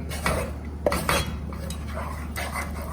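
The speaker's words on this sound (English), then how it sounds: "you go on stirring till this becomes a nice pulp" A spoon stirs green coconut curry in a pot, scraping and clinking against the metal in several short strokes, close and moderately loud over a steady low background hum.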